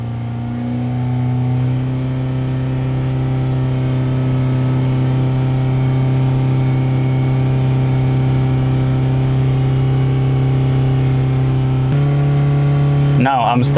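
A Toyota Camry with a long crank, power loss and lean codes idles and then holds a steady raised rev around 3,000 RPM, a loud, close droning engine note that jumps higher in the final second.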